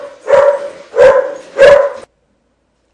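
Three loud, close dog barks come in an even rhythm about half a second apart, then stop abruptly, with a brief sound cut off at the very end.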